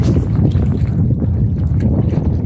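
Strong wind gusting over Jordan Lake in North Carolina during kayak sailing, a continuous buffeting roar across the microphone with the wash of water under the boat.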